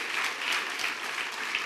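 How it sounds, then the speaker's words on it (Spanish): A church congregation applauding during a Spanish-language service, a brief burst of steady, dense clapping from many people that fills the room. "dale fuerte el aplauso al Rey"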